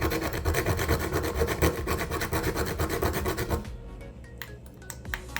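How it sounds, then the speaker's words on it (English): Whole nutmeg is grated by hand in quick, loud, rhythmic rasping strokes for about three and a half seconds, followed by a few faint scrapes and taps, close up with no talking. "Let me just grate a little and show you how it's looking."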